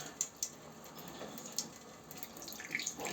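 Tap water runs into a sink while a face is being washed, making a steady close splashing hiss with small drips and clicks, and no voices.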